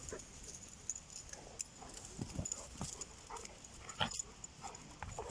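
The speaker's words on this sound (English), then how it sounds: "There you are, the dogs are playing chase." Several dogs play chase together outdoors, with scattered soft barks, whimpers and rapid paw scuffles over steady low background noise. No one talks.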